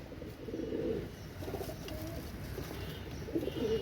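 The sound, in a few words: Pakistani Shaki and Royal male pigeons cooing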